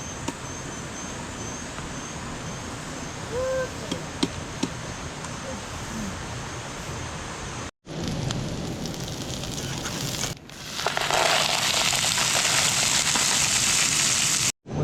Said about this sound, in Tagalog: Ulan agad.